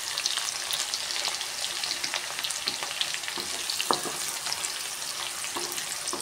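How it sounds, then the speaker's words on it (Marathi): Onion and green chilli frying in a pan make a continuous bright sizzle, with occasional stirring scrapes and pops close at hand. "आता टाकते मी यात कांदा. कांद्यासोबतच मिरची पण टाकते."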